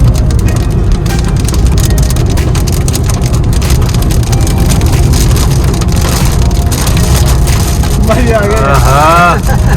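Dense, steady rain drums loudly on a car roof throughout, with a warbling electronic tone rising briefly near the end.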